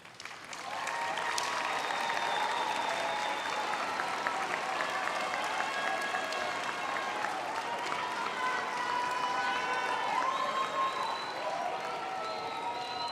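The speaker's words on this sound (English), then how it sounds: "Please turn to them and you give them an applause." Graduation ceremony audience applauding their supporters: dense, steady clapping from a large crowd fills the hall for about twelve seconds without a break.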